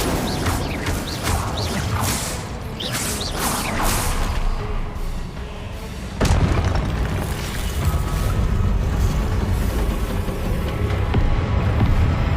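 Incendio fire spell cast in Hogwarts Legacy, a loud whooshing burst that bursts into a sustained roaring rumble over busy game effects, with an abrupt heavy boom about halfway through.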